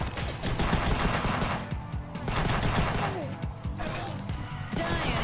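Carbine fired in the arcade shooter Huntdown: dense, repeated bursts of rapid gunfire with impacts and crashes, loud and continuous, mixed with game effects and occasional talk.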